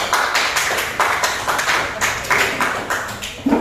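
Uneven, close hand claps from a small classroom group welcoming group 3 at a school teaching practice session, steady sharp slaps continuing throughout.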